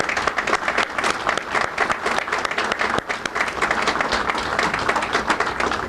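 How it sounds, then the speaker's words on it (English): A crowd applauds volunteers at Coast Guard Days in Port Huron, dense sustained clapping from many hands, loud and continuous for several seconds. "So if you would quickly just give me a round of applause and thank them."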